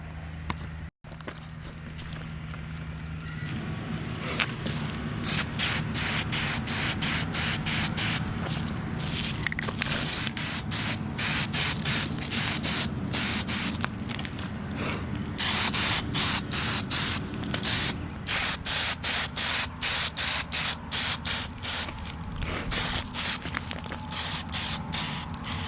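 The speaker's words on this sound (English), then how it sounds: "So I'm just gonna start spray painting them black." Aerosol spray paint hissing in long continuous bursts as fork extensions are coated black outdoors, close and fairly loud, with short pauses between passes and a few faint scuffs.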